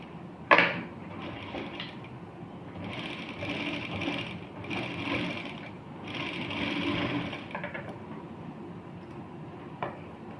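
A sewing machine runs in several bursts while stitching salwar fabric, whirring steadily for a few seconds at a time with brief pauses and a sharp click near the start, close and fairly loud with no talk.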